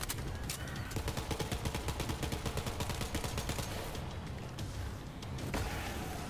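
Rapid, sustained gunfire from the video game Borderlands 3, a dense stream of quick shots forming continuous bursts for several seconds before easing off, loud and close.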